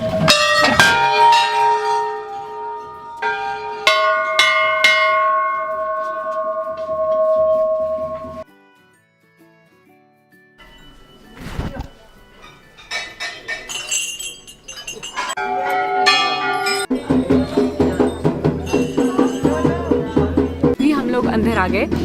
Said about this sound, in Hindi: यहाँ पे बहुत सारी घंटियाँ और ये घंटियाँ सालों से हैं